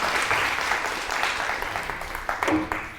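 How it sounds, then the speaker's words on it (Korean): An audience claps at a conference keynote, with dense, steady applause from a roomful of people that fades slightly toward the end. "큰 박수 부탁드리겠습니다"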